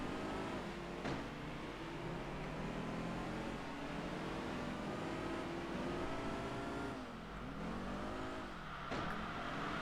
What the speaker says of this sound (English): Yeah, we have a turbo now, I heard it.